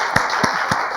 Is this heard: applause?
yes